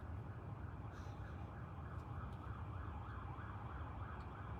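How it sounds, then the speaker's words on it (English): A siren wails steadily at a distance over constant low rumbling background noise, with no speech. "nothing like a siren to ruin a zen moment"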